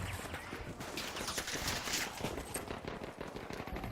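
Gunfire in the Battlefield video game, a dense ongoing stream of rapid shots and bursts with continuous crackling and impacts, moderately loud throughout with no talk.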